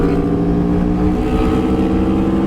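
A 2023 Aprilia Tuono V4 Factory, carrying the 2021 RSV4 engine, drones loudly and steadily at a constant pitch, a dense throaty engine note filling the whole moment without any talking.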